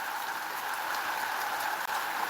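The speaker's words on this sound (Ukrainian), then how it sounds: "Цікаво, чи ще в когось іде дощ." Steady rain hissing down continuously, a dense even patter with no pauses, fairly close and moderately loud.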